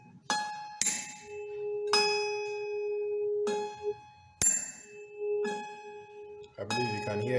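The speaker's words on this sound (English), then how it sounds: "Here is a tuning fork of frequency 480. So if I sound this," A 480 Hz tuning fork is struck several times, each sharp metallic tap followed by a clear ringing tone that holds and then fades, with quiet pauses between strikes.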